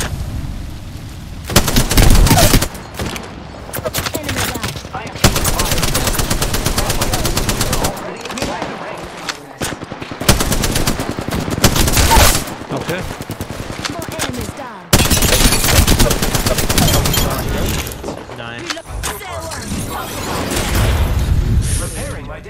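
Gunfire in a battle royale video game, with dense bursts of automatic fire and single loud shots that keep going almost without a break. Voices are heard at times under the shooting.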